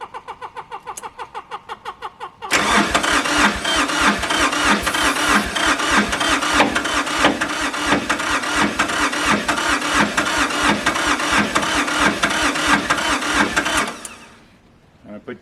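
A tractor engine cranks with a rapid starter rhythm, then catches and roars loudly after too much ether, running with a heavy pounding knock for about ten seconds before cutting off abruptly.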